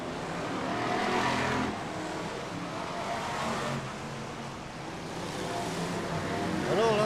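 BriSCA F1 stock cars racing around an oval track at a 1995 meeting, a dense roar of engines swelling and fading as cars pass, heard from a distance with a steady crowd-like wash.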